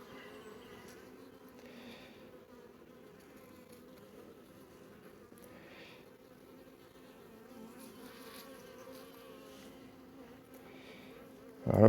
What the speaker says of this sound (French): Puis il y a des abeilles.